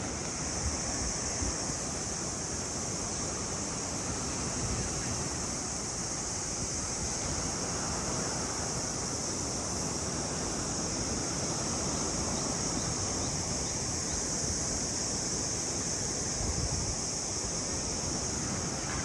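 Ocean surf breaking on the beach beside a five-star resort and casino in Vietnam: a steady, dense roar of waves that rolls on without pause, with no voices.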